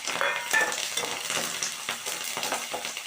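Curry leaves dropped into hot oil already crackling with mustard seeds, lentils and dried red chillies give a dense, steady sizzle and spluttering, close and loud, with a few stirring clinks and no voices.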